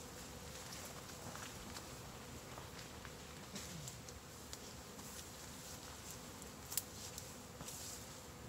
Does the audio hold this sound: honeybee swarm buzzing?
yes